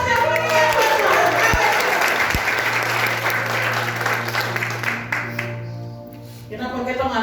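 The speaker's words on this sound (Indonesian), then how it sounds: "Aplaus yang meriah buat Tuhan." A congregation applauding during a Christian worship service at PON 2021, sustained clapping from a crowd that tapers off after about five seconds, with a low instrumental hum beneath and some voices.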